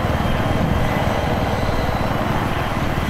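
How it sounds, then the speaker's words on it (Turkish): Helicopter in a video game thrums overhead with a steady, loud rotor-and-engine drone that fills the whole moment without letting up, no voices over it. "yukarıda helikopter var"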